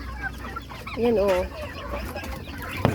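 Backyard chickens, including a large one, cluck close by in short harmonic bursts around a second in, with a sharp peck or knock near the end; a person speaks briefly.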